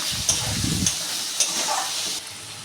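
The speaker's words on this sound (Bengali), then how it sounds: "চেরা কাঁচা লঙ্কাগুলো দিয়ে দিলাম।" Slit green chillies sizzling as they go into a hot pan of oil, a steady hiss with brief crackles and a low bubbling burst early on, fading slightly toward the end.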